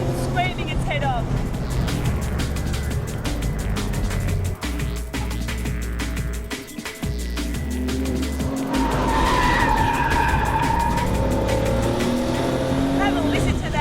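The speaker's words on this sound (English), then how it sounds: "up into third, and the car's still pulling, screaming its head off" A Porsche 930 engine pulls hard in third gear, loud and close, its rising roar climbing in pitch with sweeping harmonics in the second half after a brief dip around a gear change.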